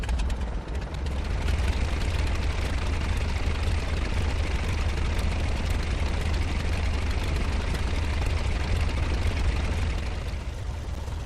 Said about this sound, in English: The starting magneto will crank over and the engine will start.